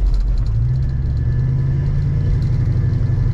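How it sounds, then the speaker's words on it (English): A 1966 Ford Fairlane GTA convertible rolls over railroad tracks, its engine a deep steady rumble close up with faint rhythmic thumps riding on top, no talking. "Go ahead and slow down for these railroad tracks as they will tear a car up"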